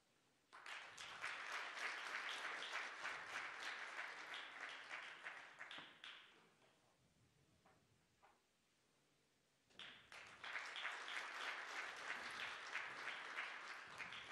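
Audience applause at a presidential culture and arts grand awards ceremony: two long rounds of crisp, dense clapping in a large hall, separated by a quieter stretch.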